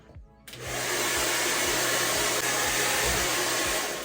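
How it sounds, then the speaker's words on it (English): A hair dryer switches on and blows steadily on a damp U-part wig, a loud, continuous rushing whine with a low motor hum that holds evenly after a quiet start, with no one speaking. "Maybe I'll blow dry her a little."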